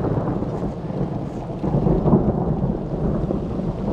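Low rumbling thunder rolls beneath steady rain, swelling midway and then easing, with no talking.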